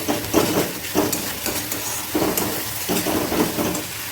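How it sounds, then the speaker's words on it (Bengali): Paneer yakhni gravy made with yogurt being stirred in a pan as it fries in released oil, with a steady sizzle and repeated scraping strokes of a spoon at a close, even level. "ভালো করে মিশিয়ে নেব।"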